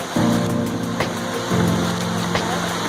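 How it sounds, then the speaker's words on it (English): Heavy pouring rain at a riverside kayak launch, a dense steady hiss filling the whole span, with low droning hums coming and going beneath it and no talk. "It's pouring down rain."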